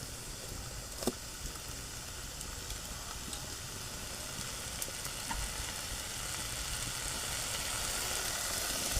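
Tomatoes for chutney sizzle steadily in a hot pan, a continuous soft hiss and crackle at moderate distance with occasional faint clinks, no talking.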